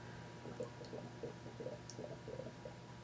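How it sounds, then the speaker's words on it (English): Pinot Grigio wine in primary fermentation, with CO2 bubbling up through an airlock: faint, soft gurgling blips that come at an irregular rhythm, quiet and close, with no talking. "You'll be able to hear all the bubbles creating."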